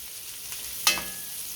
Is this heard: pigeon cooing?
no